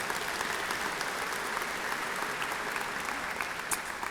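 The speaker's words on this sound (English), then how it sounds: "so we really give them all a big round of applause" A crowd applauds at an athletics hall of honor awards night, with dense, even clapping that sustains for several seconds at moderate distance, with no talk over it.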